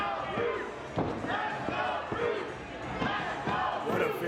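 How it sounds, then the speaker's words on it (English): Wrestling crowd at a tournament match cheering and chanting in rhythmic waves, with repeated thuds from the ring every half second or so and a commentator's voice under the noise. "Crowd urging Bruce James here, cheering him on."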